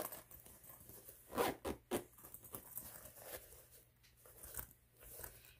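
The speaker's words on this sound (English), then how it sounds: "it's got this double zipper here" A few quick, faint rasps of a double zipper on a thick pleather project bag, short bursts in close succession followed by soft handling rustles.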